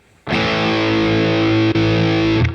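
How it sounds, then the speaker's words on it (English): Electric guitar played through a practice amp's distortion amp model: one loud, thick, saturated chord rings out with long sustain, briefly interrupted by a small pick click before fading at the end. "it's going to be a different type of distortion based on a different amp model"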